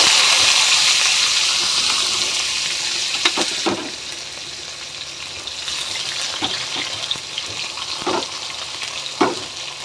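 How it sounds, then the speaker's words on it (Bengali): Whole cumin and chopped onion fry in hot oil with a loud, steady sizzle, broken by several sharp scraping clacks of a spoon stirring against the pan, close and without voices. "তারপরে দিয়ে দেবো যে গোটা জিরা তারপরে দেবো যে কুচানো পেঁয়াজ"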